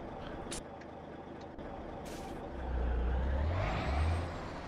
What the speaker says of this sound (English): I've got my old Mack R truck, and I've gone back to the stock engine, which is slow